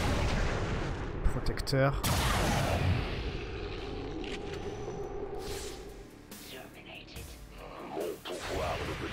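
A cannon fires in the video game XCOM 2 War of the Chosen as heavy booming blasts amid rumbling battle effects, with a voice talking over the game sounds.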